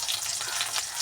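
Green chili, garlic, small ginger and fenugreek seeds frying in hot oil in a pan for a Kerala tuna fish curry, giving a steady, close, continuous sizzle with no talk.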